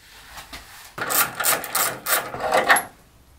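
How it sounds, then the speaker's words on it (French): Cracked windshield glass on a Peugeot 406 gives off a dry, rasping crackle in close, uneven bursts lasting a few seconds, with no talking. "Ce doux bruit d'étoiles d'araignée qui craquent."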